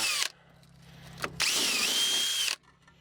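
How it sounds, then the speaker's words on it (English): A small power drill whirs in a brief burst, then runs again in a longer steady whine for about a second before stopping, during front brake work on a 2002 Subaru Outback. "I don't think this little drill's gonna go in there"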